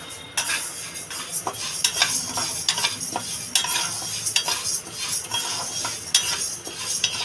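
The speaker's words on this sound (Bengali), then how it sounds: "মুগ ডালটা আমার ভাজা হয়ে গেছে" Moong dal frying in a pan for khichuri, with a steady sizzle under repeated scraping and clinking strokes of a spatula against the metal, close and continuous, no voices.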